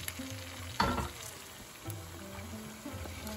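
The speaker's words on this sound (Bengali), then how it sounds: "আলুটা একটু ভাজা ভাজা হলে" Small diced potatoes frying in a pan with onion for aloo posto, a soft steady sizzle with a few clinks and stirring knocks, no talking.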